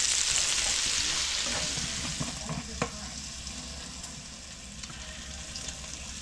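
Chopped onions raked into a hot pan on an electric range give a steady, close sizzle with a few soft scrapes and clicks, loudest at first and easing slightly as it goes on.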